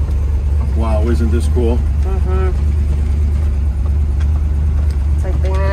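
Engine of a 1966 Chevrolet Corvette convertible with a freshly redone exhaust system and manifold, a steady loud low rumble throughout as the car drives, with people talking over it.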